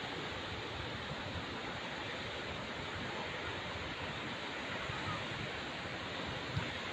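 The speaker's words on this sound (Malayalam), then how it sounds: "ഈ നിച്ചിഫുല വെള്ളച്ചാട്ടവും അങ്ങനെയുള്ളൊരു വെള്ളച്ചാട്ടമാണ്." A Himalayan waterfall, the Nichiphu falls, pours in a steady, dense roar of rushing water that stays constant and close throughout, with no other sounds standing out.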